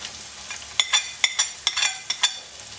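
Onions and crushed chilli sizzling in a pan with a spatula scraping and stirring, a steady hiss punctuated by several sharp clinks and scrapes, close and fairly loud.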